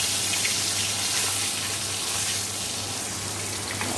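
Chicken pieces frying in hot oil give a steady, dense sizzle with a low hum beneath it, close and continuous and with no talk over it.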